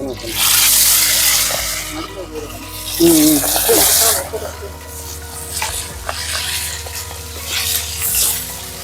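Quail hiss and sizzle in hot oil as they are stirred, with bursts of loud crackling frying over steady bubbling. Occasional scraping stir sounds and a voice speaking underneath.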